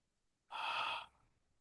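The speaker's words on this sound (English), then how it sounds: "Open the mouth, exhale on an H sound." A single breathy exhale pushed through an open mouth on an "H" sound, lasting about half a second and close to the mic, then fading quickly into quiet.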